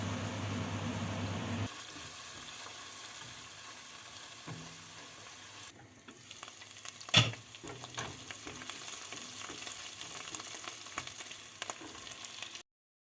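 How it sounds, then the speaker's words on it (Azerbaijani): Tomato and red pepper paste is stirred into frying onions in a pot, a continuous sizzle with scraping stirs, one sharp clack partway through, and the frying dying down toward the end. "Soğan qızardıqdan sonra bir xörək qaşığı qırmızı biber tamatı əlavə edib qarışdırırıq"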